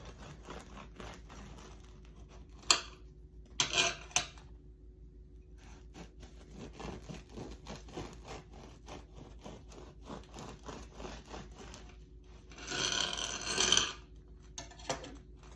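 A knife cuts through a warm homemade loaf baked in a bread machine, with faint soft sawing and crumbly rubbing, occasional sharper knocks, and a louder rustling burst near the end.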